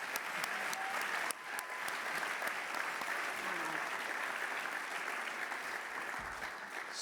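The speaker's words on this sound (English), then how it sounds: "Let's please give him a round of applause." An audience breaks into steady, dense applause that carries on evenly for about seven seconds, with a brief dip early on, and sounds like a full room clapping together.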